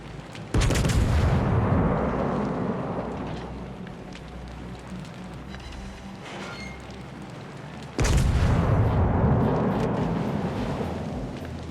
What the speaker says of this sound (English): Now we're being shot at from multiple directions.